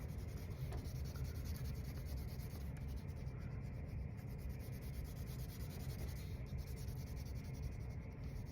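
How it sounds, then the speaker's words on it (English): A yellow colored pencil is drawn over paper in a steady, soft scratching and rubbing that continues close up and quietly throughout, with no speech. "I'm just taking my yellow color pencil"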